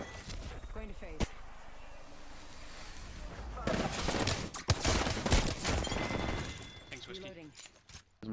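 Rapid gunfire from an Apex Legends match, dense bursts of shots and impacts packed together through most of the stretch, loudest midway, with game voice lines in between.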